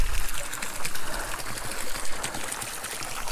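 Hot spring water from a repaired pipe pours steadily into an outdoor tub in Idaho, a continuous close splashing trickle with no talk.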